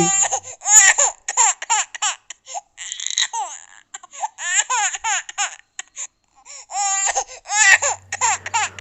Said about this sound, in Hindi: वो बच्चे के रोने की आवाज़ आज मुझे एकदम क्लियरली सुनाई दे रही थी